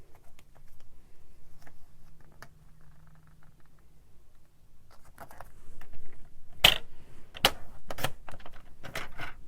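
A paper trimmer slices a 3/4 inch panel of patterned paper for card making, giving several sharp, close clicks and cuts toward the end after a quiet stretch of faint handling.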